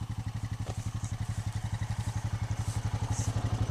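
A four-wheeler engine runs steadily up close, its low, rapid pulsing thrum holding an even rhythm with faint clatter riding on top, on a farm feed lane at night.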